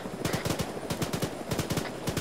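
Rapid bursts of automatic gunfire aimed at infantry in the Arma 3 military shooter, close and sharp, with several quick clusters of shots in an uneven rhythm across a woodland battlefield.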